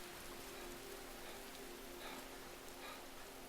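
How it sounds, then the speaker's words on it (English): Steady rain falls in the Skyrim video game, a constant soft hiss of drops with no other sounds over it. "That rain ended really abruptly."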